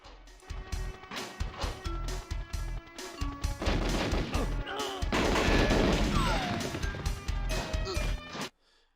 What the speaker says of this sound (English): that explosion alone killed both of them